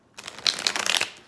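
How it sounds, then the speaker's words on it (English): A quick riffle of playing cards being shuffled, a brief crisp flutter of snapping card edges, close and clear with no voices. "Let me do some shuffles."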